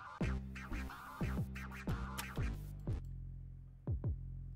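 Rhythmic record-scratch sounds from the Incredibox music game, quick back-and-forth swipes in a repeating pattern over a low, steady tone, fairly close and clear.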